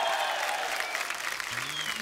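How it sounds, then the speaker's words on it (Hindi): Studio audience applauding on a comedy talk show, a brief, dense wash of clapping heard fairly faintly and steadily throughout. "आप सबकी जोरदार तालियों के बीच"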